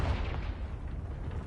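A low, rumbling blast from the Confringo fire spell in Hogwarts Legacy, a muffled booming burst that rolls on and fades over a second or so, with no voices.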